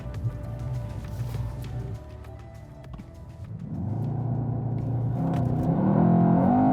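Mercedes-AMG E63 S and a twin-motorcycle-engined MK car drag racing, heard from inside as a steady engine rumble that surges and builds in a rising roar of acceleration.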